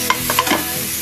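Tomatoes and onions sauté in a pan, with a steady soft sizzle under a few quick scraping stirs of a spoon, close and clear.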